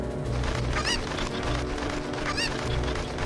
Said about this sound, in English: Just use this chicken to fly over that fence and get into that hole this time.